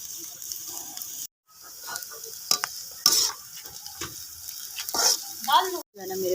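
Bitter gourd (karela) frying in ghee while being stirred: a steady close sizzle broken by scraping bursts and two brief dropouts.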